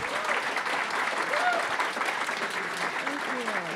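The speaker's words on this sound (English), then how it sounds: "Let's give them a round of applause." An audience at a panel discussion on diasporic Vietnamese artists gives a sustained round of applause, even and moderately loud throughout, with a few voices faintly audible under the clapping.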